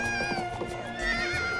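Cartoon horse in the animated Paddle Pop Magilika whinnying with a long, bright neigh, joined by rhythmic hoofbeats of galloping, close and loud with no talk.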